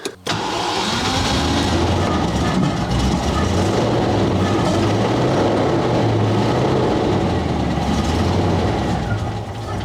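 A Range Rover Classic engine starts with a brief jolt and then runs loud and close, a steady low rumbling drone that holds for the rest of the stretch.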